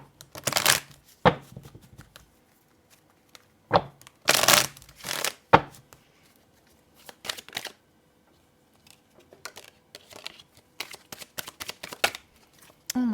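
Tarot cards are shuffled in several brisk riffling bursts, close and crisp, separated by pauses, with lighter card flicks and handling noises scattered between them.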